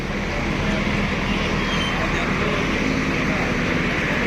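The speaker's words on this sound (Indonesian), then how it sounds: "Nah ini bus JRG juga ikut berangkat nih dari Cililitan." A JRG Hino bus pulls out of the Cililitan terminal amid steady, loud road traffic, a broad continuous rumble of engines with no distinct breaks; voices are faintly mixed in.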